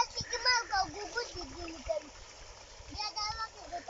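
Children's voices chatter and call out while water splashes intermittently in the background, lively and moderately near.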